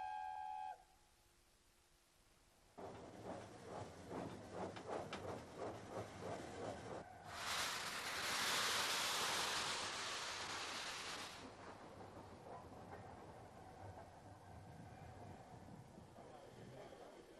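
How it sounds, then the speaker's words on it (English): The Mallard steam locomotive moving off, a steady chuffing rhythm building into a loud hissing rush of steam, then a continuous rumbling roll. "the proud locomotive leaves her shed on the way to pick up her train"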